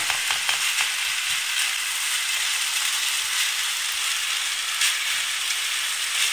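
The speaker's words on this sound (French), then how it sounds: "Je mélange correctement ma farce." Kefta stuffing mixed with vegetables fries in a pan, giving a steady, bright, close sizzle with a few faint stirring scrapes and no talking.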